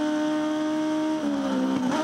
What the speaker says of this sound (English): Bang, bang, bang. Sequential gearbox.